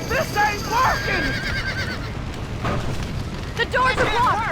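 Horses neigh and whinny in a burning barn in the video game Red Dead Redemption, several loud, shrill cries over rumbling fire and crackling, with shouting voices around them.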